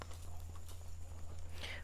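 Horse hooves clip-clopping steadily as a young horse walks along a fence during reining spin training, a continuous soft stepping rhythm over a low steady hum, with faint voice in the background.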